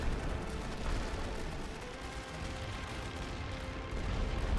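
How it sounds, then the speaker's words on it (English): Artillery fire rumbles in The Great War: Western Front during a Central Powers battle at Ypres: a dense, continuous barrage of heavy booms that blend into a steady, moderately distant roar with no voices. "I'm going to try to hit this concentration with artillery again."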